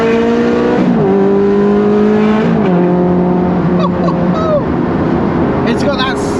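A Ferrari Challenge Stradale engine revs hard while driving, its rising pitch interrupted by crisp single-clutch gear shifts that drop the tone in distinct steps, loud and close with occasional tire chirps.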